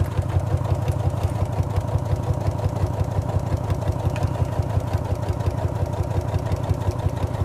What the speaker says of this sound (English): basically drop your foot and carry on sewing